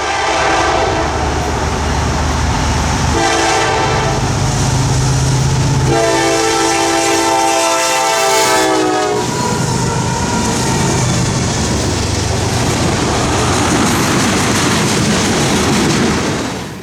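A freight train led by a foreign FXE locomotive passes close by on CSX's Florida mainline south of Vitus Junction, its loud engine roar, blaring horn and clattering wagons filling the whole stretch.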